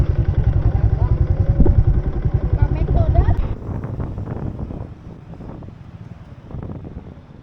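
Motorcycle on a long-distance road trip, a loud close rhythmic engine throb buffeted by wind noise, easing to a lower rumble partway through.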